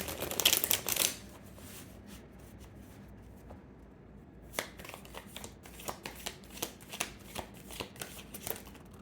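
Tarot cards being shuffled by hand: a loud riffle burst at the start, a quiet pause, then a run of soft, evenly spaced card slaps and flicks close by, with no talking.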